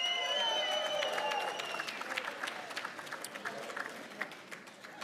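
A crowd cheers and applauds at a Hall of Fame induction ceremony for soccer, a loud roar with whistles and whoops that gradually settles into steadier clapping over several seconds.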